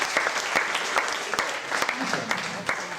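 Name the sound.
audience applause for hypnosis show volunteer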